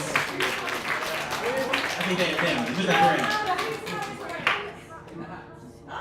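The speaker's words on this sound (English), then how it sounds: "Give them a round of applause." Audience applause for quiz winners at a pub quiz night, a dense burst of clapping with cheers that runs several seconds and then thins and fades, while people talk over it.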